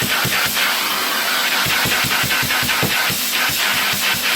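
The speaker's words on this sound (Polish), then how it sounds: "Wypróbujmy jeszcze ten odkurzacz tak w funkcji dmuchawy." A Hoover Constellation 867A vacuum cleaner running as a blower gives a loud, continuous airy rush with a rapid rhythmic pulsing underneath, heard alone and close.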